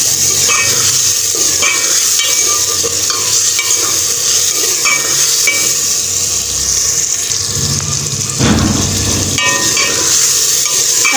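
Garlic-ginger paste frying and being stirred in a pulao pot, a steady close sizzle with scraping spoon strokes throughout and a brief louder clatter near the end, no talking.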